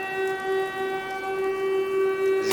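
In a Fallout 4 Silent Hill horror mod, a steady, droning air-raid siren wails with a sustained, harmonically rich tone that stays loud and unbroken throughout.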